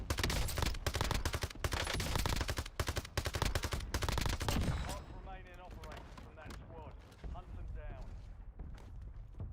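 Loud, fast bursts of automatic gunfire from Call of Duty: Warzone hammer away for several seconds, then give way to someone talking with fainter game sounds behind him.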